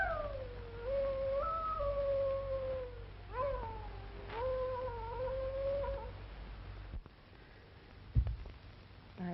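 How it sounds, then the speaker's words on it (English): An animal howls and wails in long, rising and falling cries, several drawn-out calls in a row, fairly close, then a pause and a brief thump. "I wish you'd stop that awful howling."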